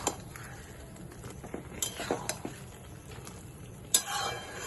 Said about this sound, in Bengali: এইভাবে ভালো করে মিশিয়ে নিতে হবে।